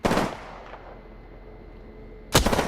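Gunfire in a video game battle, two sharp, loud bursts of shots, one at the start and one near the end, with a fading ringing tail between them and no talk.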